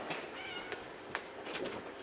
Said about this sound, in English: interrupt me and meow outside the door